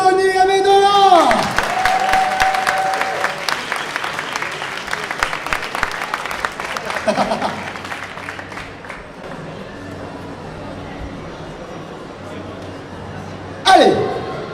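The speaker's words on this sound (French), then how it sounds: "Encouragez-le, applaudissez-le." A convention crowd at a fan conference with the cast of Once Upon a Time cheers and claps as actor Tony Amendola is introduced, strong at first, then tapering into scattered clapping and murmur, with a host's voice over it.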